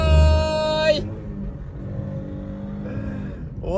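A Chevrolet Camaro V6 engine revs hard and climbs in pitch, drops off abruptly, rumbles low, then starts revving upward again at the end.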